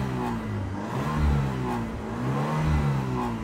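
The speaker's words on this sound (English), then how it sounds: "Rev the engine." A 2007 Ford Fiesta Zetec hatchback with a 1.25 engine revs repeatedly, the pitch rising and falling in steady waves, close and loud with no voices over it.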